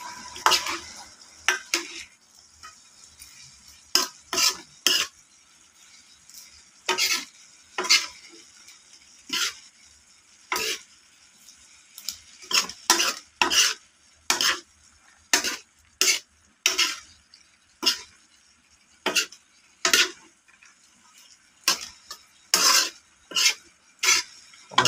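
Mung bean sprouts with shrimp are stir-fried in a pan, a utensil scraping and tossing in repeated rhythmic strokes over a faint sizzle, close and clear.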